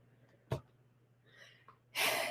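A cat's small, sharp sneeze bursts out in a quiet room, followed by a faint snuffle and then a louder breathy hiss.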